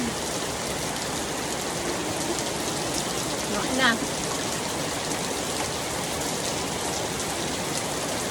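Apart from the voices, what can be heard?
rain falling on house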